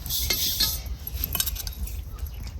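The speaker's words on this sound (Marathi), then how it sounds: "ह्याच्यावर ठेवते लोखंडी तवा" A heavy iron griddle set down on a wood-fired clay stove in a village kitchen gives close metallic clinks and scraping knocks, with a low crackling background and no talking.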